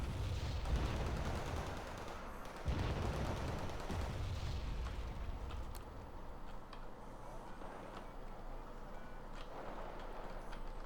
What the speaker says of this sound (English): Canadian rifles are engaging Fusiliers.